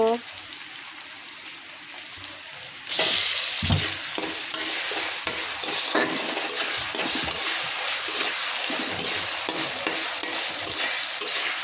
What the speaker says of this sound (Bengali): তেল গরম হয়ে পড়ে পেঁয়াজ দিয়ে দিয়েছি, মাছটা দিয়ে দিব